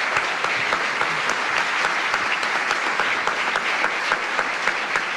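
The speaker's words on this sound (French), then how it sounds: "Merci Maud Chiriot, on peut vous applaudir bien fort." A television studio audience claps loudly and steadily, a dense continuous wash of applause with no voices over it.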